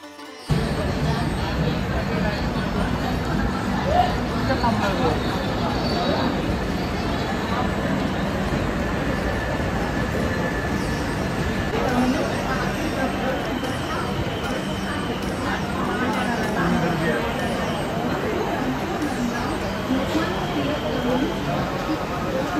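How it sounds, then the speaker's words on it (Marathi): Dense crowd of passengers waiting on a railway platform for the Konkan Kanya train, a steady babble of many voices and shuffling noise throughout, with someone speaking over it. "पूर्ण गर्दी आहे।"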